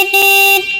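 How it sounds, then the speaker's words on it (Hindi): An electric rickshaw sounds one short, loud, buzzy horn blast close by, a bright steady tone lasting under a second. "ये आगे की तरफ चला रहा हूँ मैं, और ये इसका हॉर्न है।"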